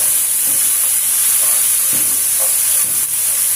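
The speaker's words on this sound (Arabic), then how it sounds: "راح نقلي البصل تاعي مليح" Onions frying in a pan for a sauce give off a steady, close sizzling hiss, with a few soft clicks of stirring and no talking.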